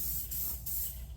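Continuous steady hiss of spray paint being applied to black plastic machine components, loud and close, with brief dips where the nozzle pauses and no voices.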